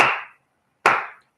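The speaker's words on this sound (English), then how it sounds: "clapping is a sound and a vibration" Two sharp hand claps, close and loud, separated by a short silence, each with a brief fading tail.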